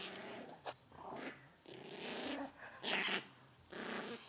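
Dogs growl in low, rumbling bursts with snarls and breathy pauses while playing, close by and fairly quiet, like rough playful grumbling.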